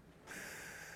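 A sharp nasal inhale starts abruptly and then holds as a steady airy rush, demonstrating breathing for the Wim Hof method, close and quiet.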